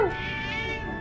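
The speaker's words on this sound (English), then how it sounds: "Is that a kitty? I'm gonna pet the kitty." A cat meows in the video game Triangle Strategy when it is petted, one sustained, clear meow with a sliding start, heard alone.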